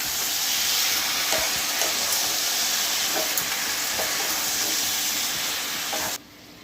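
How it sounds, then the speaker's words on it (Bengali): Ginger, garlic and dried chili paste sautéing in a hot pan, a steady loud sizzle with faint scraping stirs throughout, cutting off abruptly near the end. "এবার এটাকে ভালো করে কষিয়ে নেব।"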